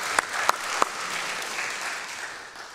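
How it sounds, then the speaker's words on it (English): Audience applause for faculty at a Q&A session, broad sustained clapping with a few sharp louder claps near the start, then fading slightly toward the end. "Round of applause for our distinguished faculty."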